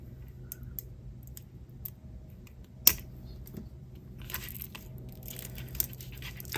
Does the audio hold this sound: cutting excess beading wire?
yes